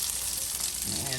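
Fish sizzles in olive oil in a frying pan, a continuous crackling fry with a busy, even texture that stays close and steady throughout, with no talking.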